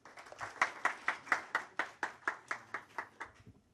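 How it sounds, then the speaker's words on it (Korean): A small audience claps in a steady, synchronized rhythm to welcome a presenter at a Korean education policy forum, about a dozen crisp, evenly spaced claps that fade out near the end. "큰 박수로 맞아주시기 바랍니다."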